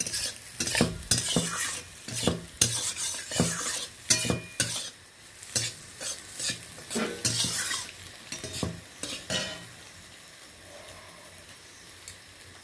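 Crumbled egg fries in a wok with a soft sizzle while a utensil scrapes and stirs in quick, irregular strokes; the stirring grows sparse and quieter toward the end, leaving a faint frying hiss.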